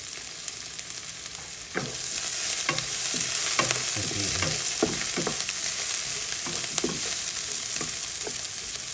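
Ginger sizzles in a hot pan alongside onion, a steady frying hiss broken by repeated clacking stirs of a utensil against the pan, close and clear with no voices.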